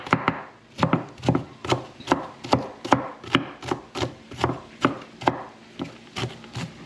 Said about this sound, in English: Yes guys, I'm cutting this onion up.